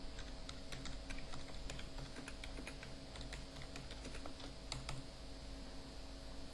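Fingers type on a computer keyboard in a quiet room, a quick irregular run of soft keystroke clicks at moderate distance, with no voices over it.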